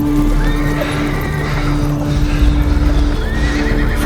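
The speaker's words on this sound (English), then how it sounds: "Borg had already mounted a horse and ran away like a stray dog" A horse in a Viking-era battle setting, heard with a loud whinny and hoofbeats as it gallops off, under layered dramatic background music.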